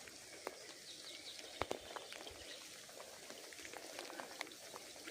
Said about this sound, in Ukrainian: Дощик більше почався.